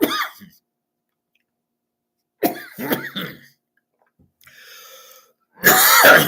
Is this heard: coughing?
yes